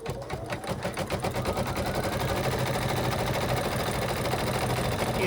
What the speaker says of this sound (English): it's going to stitch all the way around the design